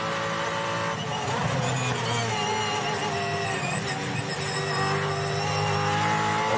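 A Supercars race car on the 2023 Gold Coast street circuit, its engine running rough, gives a loud, continuous, dense roar with shifting tonal layers for the whole stretch and no talk over it.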